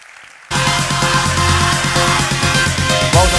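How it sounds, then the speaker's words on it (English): At a conference stage event, an audience breaks into steady applause after a brief quiet start, a loud, dense wash of clapping that holds evenly to the end. "Give a warm applause for Richard Hart."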